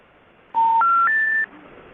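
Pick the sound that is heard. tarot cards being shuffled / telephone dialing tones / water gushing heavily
telephone dialing tones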